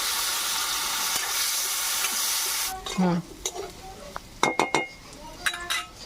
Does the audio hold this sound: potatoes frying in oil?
yes